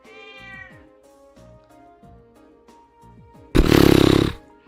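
A cat in the video game Trails of Cold Steel gives a series of short purring, chirpy meows with rhythmic pulses, then a loud, harsh, rasping burst near the end.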